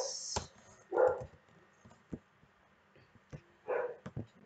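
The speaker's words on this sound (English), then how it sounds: "Sorry, my dog is in the background." A pet dog in a room barks in a few separate short yaps with pauses between, fairly faint and a little distant, with small knocks in between.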